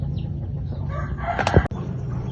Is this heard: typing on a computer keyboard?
no